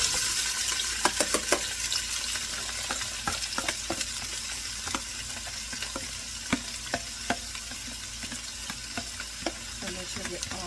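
Vegetables fry with a steady sizzle in a pan on the stove, with repeated sharp scraping clicks as they are stirred, close and continuous with no talking.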